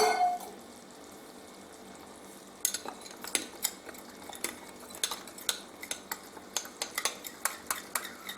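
A spoon mixes rice flour with water in a small vessel for kozhukkatta, tapping and clinking in a quick, irregular rhythm after a quiet pause, close and distinct.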